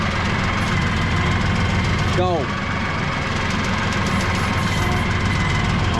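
A tractor engine runs steadily throughout at a close, constant idle-like rumble, with people shouting and talking over it outdoors.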